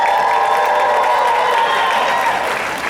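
A school concert audience applauds and cheers steadily for a sixth-grade band section, a dense wash of clapping with scattered shouts that carries on without a break and fades a little at the end.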